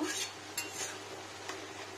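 Cabbage being stir-fried in a pan for a vegetarian Bengali dish, with a soft, steady scraping and stirring, a few light utensil clinks and a faint sizzle, quiet and close with no talking.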